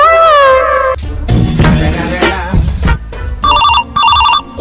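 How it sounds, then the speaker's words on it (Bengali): A telephone ringtone sounds during a call, with electronic tone bursts at the start and then repeated pulsed rings near the end, separated by a busy, noisy stretch in between. "তাহলে দাঁড়া, আমার বন্ধু কাশেমের কাছে ফোন দিচ্ছি।"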